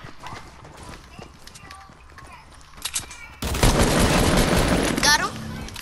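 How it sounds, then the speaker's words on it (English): Gunfire in a Fortnite match: the opening seconds hold scattered game sounds and footsteps, then a dense burst of rapid shots erupts and continues to the end, with players talking over it. "People shooting at him."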